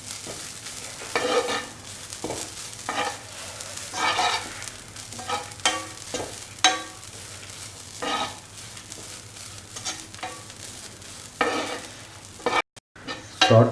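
Shallots and coconut powder with salt being stirred and dry-roasted in a pan, a steady soft sizzle broken by repeated scraping strokes of the spoon, close and without speech.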